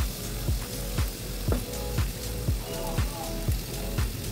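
Lote (Bombay duck) fish, rubbed with salt and turmeric, sizzle as they drop one by one into hot oily masala, a steady close frying hiss broken by about eight regular soft plops and bursts of spatter.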